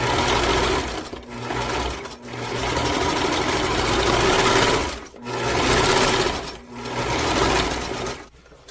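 A sewing machine stitching through journal pages in several loud, steady bursts, each run lasting a second to three seconds and separated by short pauses.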